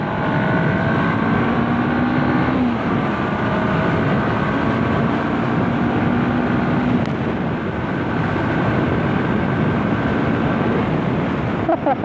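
A Honda CB500X motorcycle cruises at highway speed, a loud, steady engine drone mixed with heavy wind rush, with slight pitch shifts as the throttle changes.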